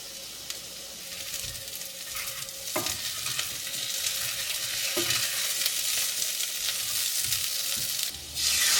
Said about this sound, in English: Sauté potatoes until the bottoms are lightly brown.